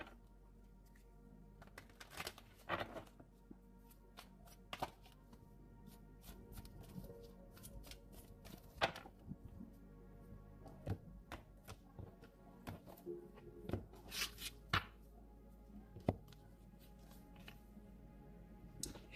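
Gaia Oracle cards being shuffled and handled, faint soft riffles and light taps scattered irregularly over a quiet background.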